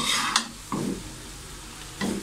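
Chow mein noodles with fried chicken tossed and mixed in a pan using two spoons, giving three short scraping stir strokes over a soft sizzle, close and moderately loud.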